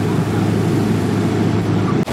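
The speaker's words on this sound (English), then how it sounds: "Oh, the garbage truck." A garbage truck rumbles past on a New York street near Times Square, a loud, steady low engine drone that fills the scene before cutting off abruptly near the end.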